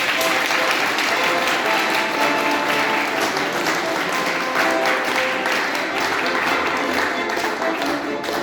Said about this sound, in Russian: Давайте все похлопаем.